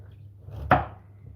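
A knife strikes a cutting board once while dicing carrots, a single sharp close chop over a low steady background hum, with no voices.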